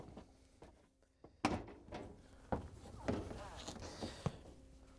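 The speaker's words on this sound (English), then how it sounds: "you can lower the inner door down and line it up" Inner door of a Whirlpool/KitchenAid/Maytag dishwasher lowered into place during latch repair, a few close thunks and knocks with scraping handling noise between them.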